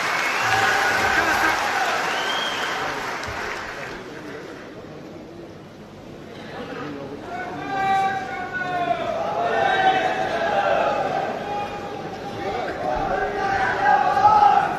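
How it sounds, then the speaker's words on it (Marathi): A crowd at a public meeting for Chhagan Bhujbal claps and cheers, a long loud swell of applause and shouting that grows toward the end, with voices mixed throughout. "भुजबळ साहेबांसाठी सुद्धा एकदा जोरदार टाळ्या झाल्या पाहिजे"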